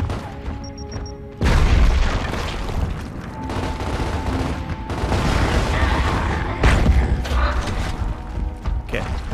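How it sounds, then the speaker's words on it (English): Frag grenades explode in the Gears of War video game as two heavy, booming blasts land a few seconds apart. Mechanical clanks and game ambience continue between them. "This time I'm probably just gonna drop the frags in the room with them."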